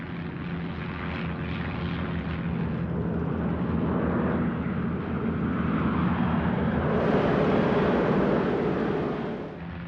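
A World War II Italian CR-42 Falco biplane fighter's propeller engine drones loudly and steadily for the full stretch, a continuous rumbling roar with no voices over it.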